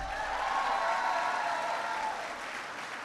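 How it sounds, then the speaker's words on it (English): An audience claps in sustained applause at a President Obama event on hiring veterans, a dense, steady crowd of hands that holds for about three seconds and then eases slightly. "Give them a big round of applause."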